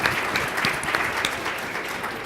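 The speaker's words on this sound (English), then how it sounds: "Give a round of applause for our actors." Audience applause at a spring client seminar, following a role-play scenario: steady, dense clapping from a large crowd, fairly close and continuous throughout with no voices over it.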